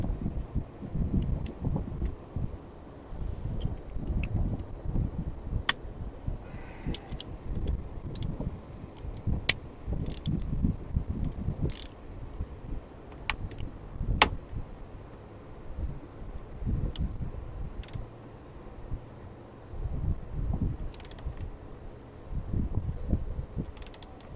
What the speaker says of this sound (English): Actually, I'd rather use my socket wrench.